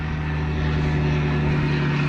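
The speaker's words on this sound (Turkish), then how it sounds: "Üstümüzden de eğitim uçağı geçiyor." Steady propeller training aircraft drone overhead above a pepper field, a loud constant engine hum with no break.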